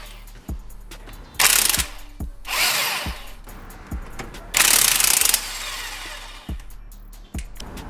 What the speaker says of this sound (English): And then we're gonna impact these 3 mount bolts.